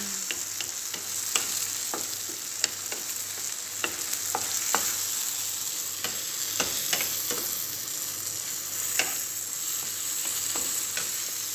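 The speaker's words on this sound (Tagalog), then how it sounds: "Ilang minuto, ilang second lang para haluin natin." Egg and bitter gourd sauté in a pan, a soft continuous sizzle punctuated by frequent light clicks and scrapes of a utensil stirring, close and fairly quiet.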